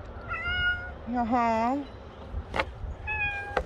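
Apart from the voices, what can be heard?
cat meowing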